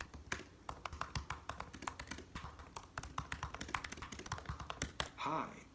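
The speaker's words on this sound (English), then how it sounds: "I'm going to type something like this" Rapid typing on a 2017 MacBook Pro keyboard, a dense, close run of crisp key taps with a brief rise of other sound at the very end.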